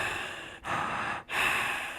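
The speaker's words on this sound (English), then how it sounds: "Her chest expands and contracts to create a subtle breathing effect." Simulated breathing function of a love doll, a soft airy inhale-exhale hiss in slow cycles with two brief pauses between breaths, close and steady, no talking.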